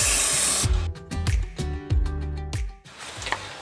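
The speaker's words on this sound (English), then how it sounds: "I'm going to spray just a little bit of the 3M90" A hissing burst of 3M 90 spray adhesive from an aerosol can while insulating a Nissan NV200 van door, followed by a series of sharp knocks and taps, then a softer hiss at the end.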